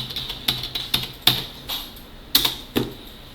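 Keys clack on a computer keyboard in a sparse, irregular run of about eight separate taps, close by and crisp, with quiet pauses between and no voices.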